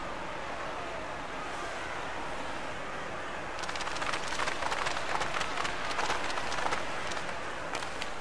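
Hockey arena crowd from the NHL 96 video game, a steady roaring murmur that swells louder and busier partway through, with scattered cheers and claps.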